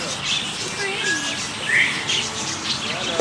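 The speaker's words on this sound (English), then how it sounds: "Oh, that's a pretty yellow bird." A yellow bird calls with repeated high chirps and tweets over a busy background of other birds and chickens, while people talk nearby.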